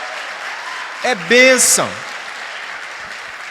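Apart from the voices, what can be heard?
audience applause in church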